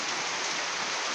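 Steady rain falling outdoors as a dense, even hiss of drops on surfaces, loud and unbroken throughout, with no voices.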